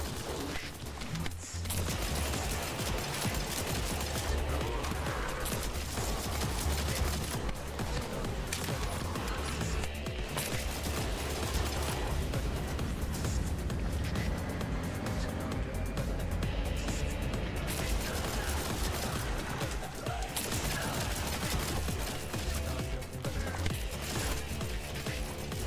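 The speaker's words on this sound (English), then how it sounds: "The new pistol sound is like sounding like a sewing machine." Rapid pistol fire in The First Descendant, a dense, steady mechanical rattle of shots resembling a sewing machine, loud and continuous alongside other game effects for the whole stretch.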